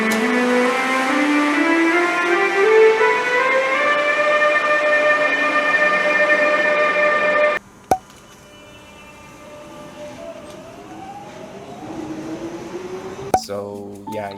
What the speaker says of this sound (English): the Siemens Taurus. I know nothing about this, but it makes a musical scale apparently